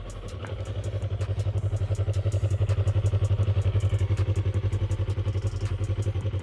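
A Yamaha R3 sports motorcycle engine runs steadily with a fast, throbbing pulse, loud and close, no clear rising revs, just a sustained rumble throughout.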